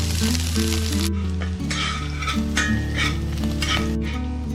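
Chopped garlic, ginger and green chili fry in hot oil for veg Manchurian, a steady close sizzle with a low constant hum underneath, running unbroken and loud throughout.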